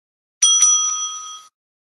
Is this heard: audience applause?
no